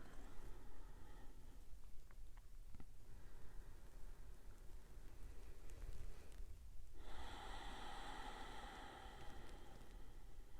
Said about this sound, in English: Begin with just a couple rounds of clearing breath. You might open your mouth to exhale.